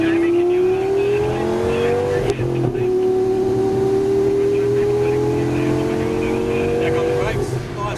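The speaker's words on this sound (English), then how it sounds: "It's just real light acceleration here" A Lamborghini Gallardo LP 570-4 Superleggera accelerates lightly, its engine note climbing steadily through a gear change and rising again, heard from inside the cabin with a person talking over it.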